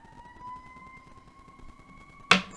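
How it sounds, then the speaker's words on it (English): A steady siren tone holds across the whole clip, distant and faint, with a sharp nearby clatter right at the end. "So many sirens today."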